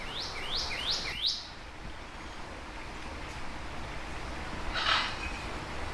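Several sharp bird calls ring out in quick succession near the start, with another burst later, over steady rushing surf or water noise.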